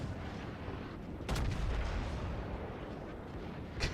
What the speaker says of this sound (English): His secondaries are opening up on us.